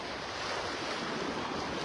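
Broad steady surf washes along the beach at Pelican Bay in North Naples, Florida, near high tide, a continuous soft roar with some wind noise and no voices.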